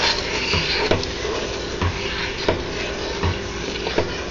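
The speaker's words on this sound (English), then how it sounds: "Stir until the butter and sugar are incorporated and the butter is completely melted." Butter and sugar stirred in a pot over medium heat for toffee, a soft rustling sizzle with regular knocks and scrapes of the spoon against the pot, close up and without speech.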